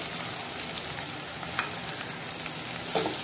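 Tomatoes sizzle and fry in a pan with red chili masala while cooking dal gosht, a continuous close crackle with occasional stirring scrapes and no talk.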